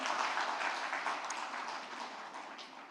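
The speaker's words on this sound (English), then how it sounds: "A loud round of applause, of course." Audience applause at the Southern Rising Summit 2023, dense sustained clapping from a large crowd, fairly even and easing slightly toward the end.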